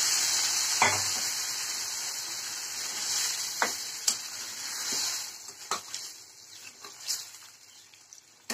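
Green peas stirred and frying in spiced oil in a pan for Bengali ghugni, a steady bright sizzle with occasional sharper scrapes and clinks of the spoon, close and alone without talk.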